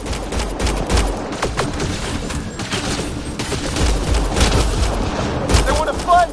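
Rapid bursts of gunfire in the Mass Effect video game crackle nonstop in a dense, loud fusillade, with shouting voices mixed in among the shots.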